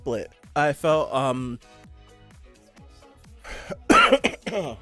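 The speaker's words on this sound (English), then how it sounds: "I still have a cough" A person talks, then lets out a few sharp, close coughs before speaking again.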